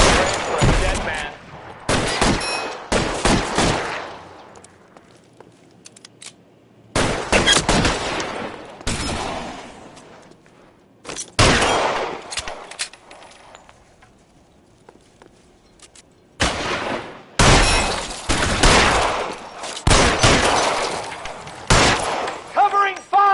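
Gunfire in the crime game L.A. Noire: repeated bursts of loud, close shots from several guns come in clusters separated by quieter gaps, with voices and footsteps mixed in between the volleys.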